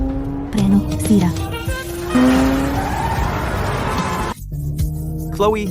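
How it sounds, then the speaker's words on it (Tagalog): A car with failed brakes speeds through city streets, its engine roaring loudly and continuously while tires squeal and skid in long, shifting screeches, with a brief drop near the end before the roar resumes. "bakit ka sobrang bilis magmaneho sa syudad?"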